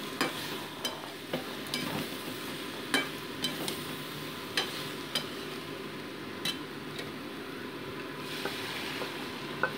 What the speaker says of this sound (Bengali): এবার আমি ফুটিয়ে রাখা গরম জল এর উপরে অ্যাড করে দিচ্ছি।